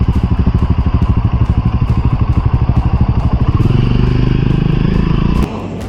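Triumph Scrambler 400 X motorcycle engine running loud and steady while riding, a close, even pulsing drone that rises slightly in pitch before cutting off near the end.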